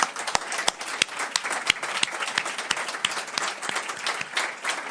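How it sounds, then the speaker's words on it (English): Sustained audience applause for Salim, dense and steady clapping from a crowd filling the whole stretch at an even level, with a few sharper claps standing out near the front. "So let's clap for Salim."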